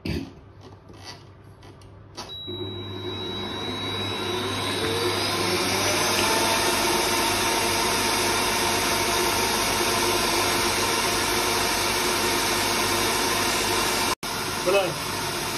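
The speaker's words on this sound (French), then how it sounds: "Maintenant, je verse mon mélange dans mon mélangeur." A stand mixer whips génoise sponge batter for a raspberry Black Forest cake at high speed in its bowl, a loud, steady mechanical whir that swells in after a quieter start and runs on evenly, with a brief cut near the end.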